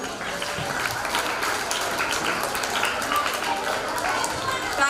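Crowd applause at a Palm Sunday School prize-giving in a Lutheran church in Chirala, a dense, steady wash of clapping lasting throughout, with voices mixed in.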